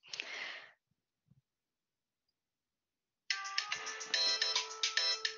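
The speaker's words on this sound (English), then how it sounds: "that's my cheesy ringtone." Cheesy phone ringtone playing a bright, melodic electronic tune that starts abruptly after a short spoken phrase and a long silence, loud and clear through the end.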